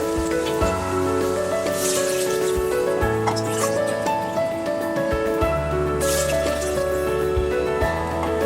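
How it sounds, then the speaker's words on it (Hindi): Water is poured into a pan of fried jowar (sorghum), rice and vegetables for pulao. A continuous close splashing and dripping runs steadily throughout, with a faint background voice now and then. "हमने 1 कप ज्वार लिया है तो हम 2 कप पानी डालेंगे।"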